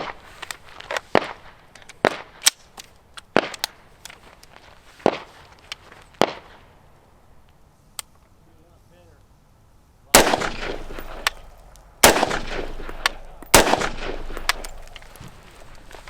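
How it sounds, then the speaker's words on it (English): Three sharp rifle shots are fired one after another at a scale target at an outdoor range, loud and close, separated by a few seconds, followed by handling noises and light clicks. "Hold dead center and break 3 shots."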